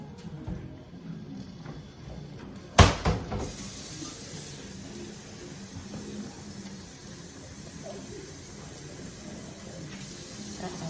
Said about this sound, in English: I'm gonna have to add some water to the vegetable soup.